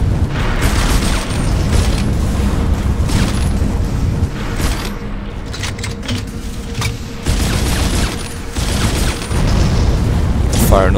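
Grenades are fired and explode again and again in Dead Space 2, a dense run of booming blasts and rumbling crashes. The barrage continues with brief lulls, and a person talks over the din.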